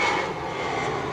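Jet airliner taking off at KLIA airport in Malaysia, its engines roaring steadily and loud at close range, with no talk.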